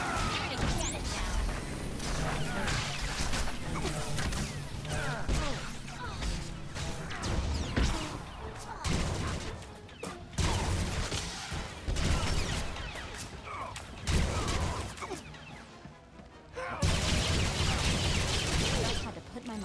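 Blaster gunfire in Star Wars: The Old Republic, dense rapid volleys of shots and crashing impacts filling the stretch almost without pause, with voices speaking now and then amid the battle.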